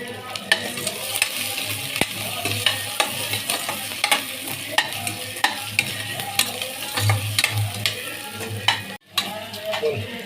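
Onion sizzles in a pan as a spatula stirs it, with frequent sharp scrapes and taps against the metal over a steady frying hiss, close and fairly loud throughout.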